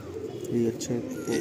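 Pigeons coo in a loft, several soft throaty calls in a slow repeating rhythm, close by, with people talking over them.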